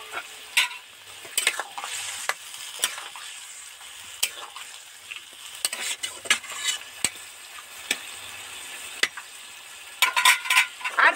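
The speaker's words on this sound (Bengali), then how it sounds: "ভাজা বড়িটা এর মধ্যে দিয়ে দেবো।" Fried lentil dumplings are stirred into a sizzling village-style fig vegetable curry: irregular spoon scrapes and clanks against the pot over a steady low sizzle, close up with no talking.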